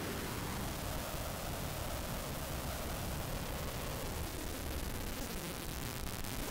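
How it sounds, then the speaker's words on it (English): Modular synth sine oscillator modulated by a filter feedback patch, a dense, loud wash of hissing, noise-like tone that holds steady and unbroken throughout. "now we are listening to this sound, which is, by the way, still the sine wave from the oscillator, eh? Being modulated by the filter"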